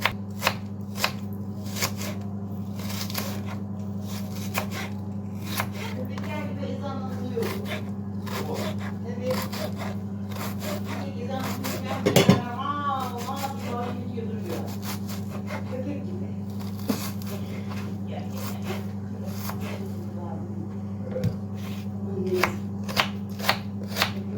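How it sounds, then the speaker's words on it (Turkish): Two onions being coarsely chopped with a knife on a board in a home kitchen, with sharp, irregular knocks spaced a second or two apart over a constant low hum, and a voice speaking briefly midway. "İki tane soğan doğrayacağım. iri iri böyle."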